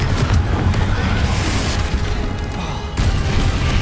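Confringo fire-blast spell going off in Hogwarts Legacy, a loud dense booming explosion with crackling debris that fades briefly and then flares up again near the end.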